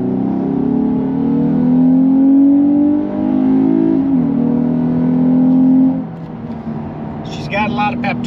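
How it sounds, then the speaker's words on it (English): A 2021 Lexus IS 350 F Sport AWD in sport mode pulls up from low speed, its engine note climbing steadily through the gears with a drop near the end; the drone is close and clear with a brief voice over the last moments. "what it sounds like when you're actually cruising up from a low rate of speed to high speed"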